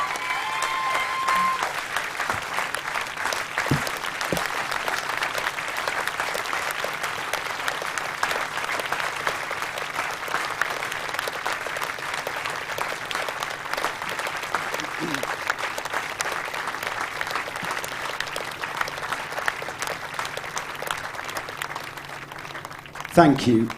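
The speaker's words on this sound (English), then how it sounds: "let's give her one more huge round of applause, please, ladies and gentlemen" A large audience at a local hero awards ceremony applauds continuously for over twenty seconds with dense, steady clapping, and faint voices now and then beneath it.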